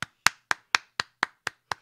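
Eight sharp, evenly spaced hand claps ring out at a brisk steady rhythm, each crisp and close with a quick decay between them and no voices.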